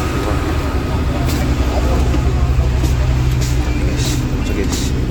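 A bus idles with a steady low engine rumble and broadband traffic noise on the way to Masjid al-Haram in Mecca, constant and close throughout.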